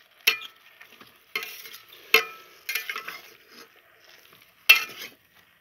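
Vegetable khichuri gets stirred in a rice cooker, a spoon scraping and clinking against the pot in several short, separate bursts with quiet gaps between them.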